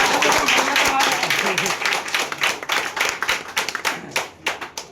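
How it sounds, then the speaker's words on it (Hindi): An audience at a poetry recital claps in a quick, scattered burst, fairly close, starting dense and thinning into separate claps toward the end, with a voice briefly heard early on. "पुलिस, ताली बजाओ यार"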